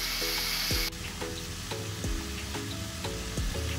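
Chicken pieces sizzle with spices in a pan, a steady frying hiss broken by regular knocks and scrapes of a spoon stirring, close and fairly loud, with no voices.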